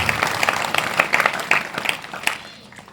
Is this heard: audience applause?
yes